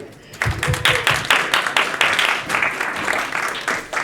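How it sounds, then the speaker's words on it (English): Live audience applause performed as foley for a game project: a crowd claps steadily and fairly close for about four seconds, the dense patter of many hands swelling slightly with sharper individual claps standing out. "So applause."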